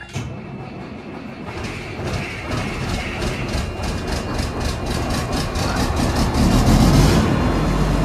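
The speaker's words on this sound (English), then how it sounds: "we're gonna see if this semi will start" A semi truck's engine starting up in the cold, a rough clattering crank that catches into a heavy, rhythmic diesel knock and builds to a loud, steady idle, close by and with no talking.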